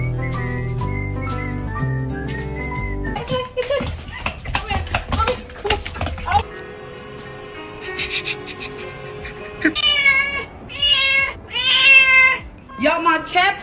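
A cat stuck in the floor meows repeatedly in high, plaintive cries, loudest toward the end, mixed with music and scattered thumps and clatter; people talk excitedly around it.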